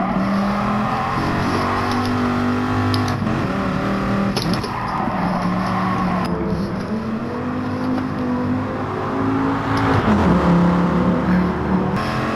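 A Dodge Viper in Gran Turismo Sport, about 448 horsepower, runs a steady loud engine drone on track with shifting pitch as it accelerates and eases off, continuous throughout with no talk.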